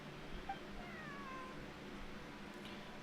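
A cat meows several times in a story-driven video game, with faint drawn-out cries over low background game ambience and no talking.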